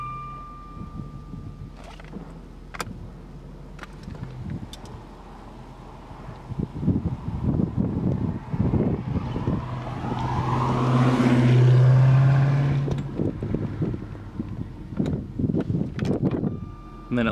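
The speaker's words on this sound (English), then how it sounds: "The roof works perfectly. I'll show you that right now." A 1998 Jaguar XK8 convertible's power roof opening, a smooth motor whir swelling and fading mid-way, with clicks and latch clunks before and after, heard close against outdoor wind noise.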